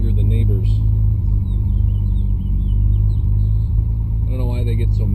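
A turbocharged Lexus IS300 engine idles steadily, a loud, constant low rumble with a deep droning hum that holds for the whole stretch, and someone talks over it near the start and end.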